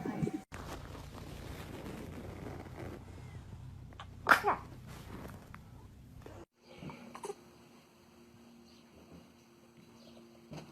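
A baby sneezes once, a short sharp burst in the middle of a quiet indoor scene, followed by soft rustling and faint background hum.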